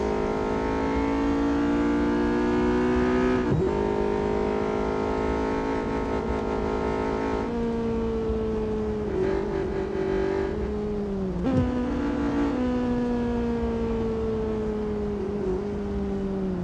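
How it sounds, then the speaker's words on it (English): A high-pitched Honda Civic Type-R VTEC engine revs continuously in Real Racing 3, its whine dipping sharply at a few gear shifts, with no talking. "sounds like a Honda VTEC engine"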